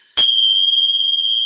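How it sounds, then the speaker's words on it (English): A single meditation bell is struck once to open a yoga practice, ringing out clearly and loudly and then sustaining a bright, steady tone that barely fades over more than a second. "now we have the bell."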